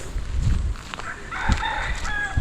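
Farmyard chickens cluck and a rooster crows close by, short bursts of fowl calls overlapping against a light outdoor background, with no talking.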